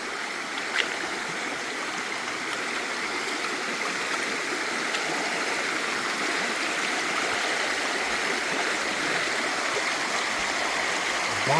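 A swollen Pennsylvania creek rips past nearby, producing an even, dense roar of rushing water that holds constant throughout with no one talking.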